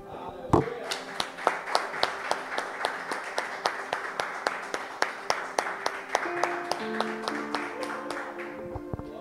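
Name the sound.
congregation applauding in church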